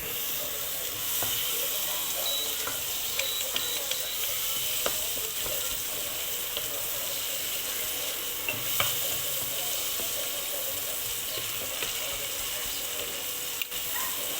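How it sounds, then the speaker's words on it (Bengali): Onion frying in ghee and butter in a pan gives a continuous close sizzle with scattered light clicks and scraping stirs, with no one speaking over it. "দিয়ে পেঁয়াজটা ভেজে নেব।"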